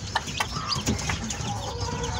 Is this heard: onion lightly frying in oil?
no